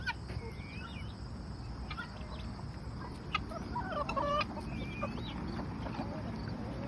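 Chickens cluck and squawk in bursts during a feeding frenzy, faint and somewhat distant over a constant low outdoor rumble on a farm with goats nearby.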